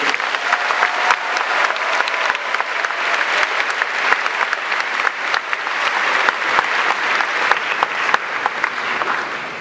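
A commencement crowd applauds after the student body president's speech to the Class of 2018, steady, loud clapping with sharp individual claps standing out across the whole stretch.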